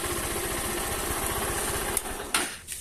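A 160cc motorcycle engine with about 6,000 km idles close up, a fast, even pulsing with a rattling, knocking edge, then a couple of sharp clicks and a blip near the end.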